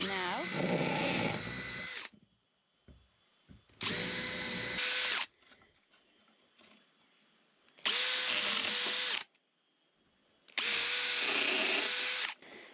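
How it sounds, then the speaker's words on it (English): A power drill pre-drills wooden shelves at an off-grid homestead in Portugal, running in four loud, sustained whirring bursts of about a second or two each, separated by quieter pauses. "So Sinead is also using the drill, so I figured I might as well just pre-drill these now."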